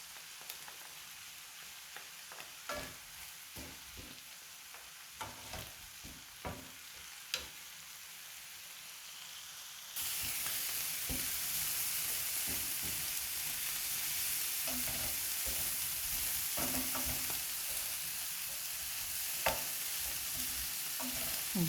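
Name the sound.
garlic and parsley frying in a pan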